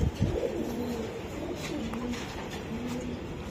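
Racing pigeons in a club loft coo in low, repeated rolling phrases, close and steady, with soft rustling around them and no talk.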